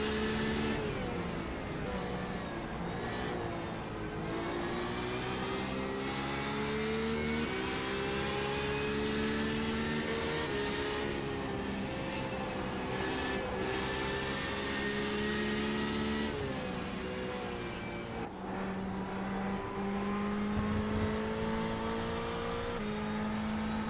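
An LMP1 prototype race car in the iRacing simulator at Watkins Glen runs under a steady, loud engine drone, its pitch climbing and dipping through gear changes, with a second engine layered beneath as cars pass, and no voices.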